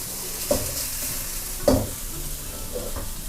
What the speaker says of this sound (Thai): ผัดกระเทียมแค่พอหอมค่ะ